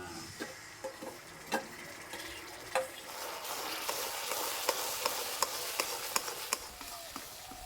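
Soft scraping and tapping of a spoon stirring plum pulp into fried jaggery in a pan, with irregular clicks over a faint sizzle, close and quiet.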